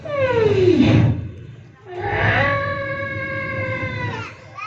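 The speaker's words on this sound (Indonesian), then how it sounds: "Suara gajah" Two long, loud trumpeting calls, the first sliding downward and the second a sustained brassy blare, with a short pause between them.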